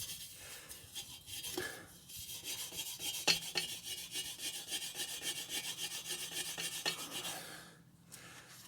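A cloth rubs back and forth over the welds of a Triumph 1200 Speed Quattro motorcycle, working off heat marks with steady, close, rasping strokes that continue for several seconds with no talking.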